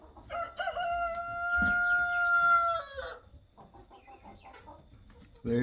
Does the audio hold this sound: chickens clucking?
yes